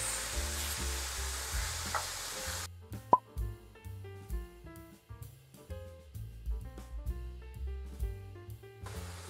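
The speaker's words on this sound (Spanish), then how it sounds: "Aquí mismo le vamos a agregar la piña. Igual la dejamos por 1 minuto y aquí la estamos moviendo." Pineapple is stirred as it fries in a pan alongside smoked pork chops, giving a brief crackling sizzle before cutting away to quiet background music with soft plops.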